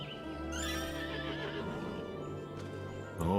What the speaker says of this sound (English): Oh, that's a six-legged horse for sure.